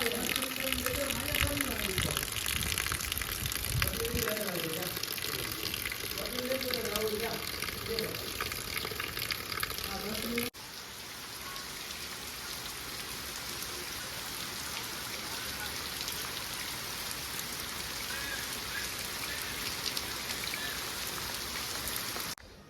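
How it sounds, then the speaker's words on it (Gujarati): Heavy rain pouring steadily for hours in Nilakha, a dense, continuous hiss of drops on surfaces, loud and close, with an abrupt shift in texture midway and voices partly audible under it. "ત્રણ કલાક થી વરસાદ"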